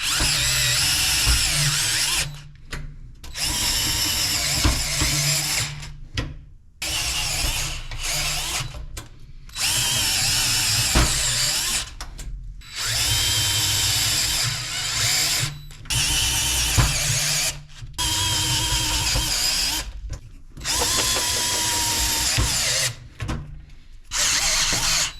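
A power drill drives fasteners into a scrap-built 40 HP rotary phase converter panel in repeated long whirring runs broken by short pauses, loud and close, with no talk.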